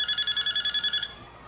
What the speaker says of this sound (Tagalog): Yaya, telepono.